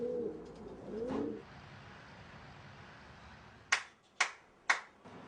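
Pigeons coo softly in a loft at the start, low rolling calls over quiet room noise, followed by a few sharp, sudden clicks or snaps near the end.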